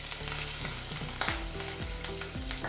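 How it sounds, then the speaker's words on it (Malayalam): Mustard seeds and green chilies sizzle in hot oil in a steady crackling hiss, with a few sharp pops and recurring stirring scrapes up close. No one speaks. "ചൂടായ എണ്ണയിലേക്ക് നമുക്ക് കുറച്ച് കടുക് ഇട്ട് കൊടുക്കാം."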